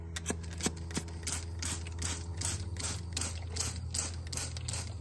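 A series of short, sharp spritzing hisses as a spray bottle mists water onto thick pork chops in a smoker, repeating in a quick, irregular rhythm, close up over a low background hum.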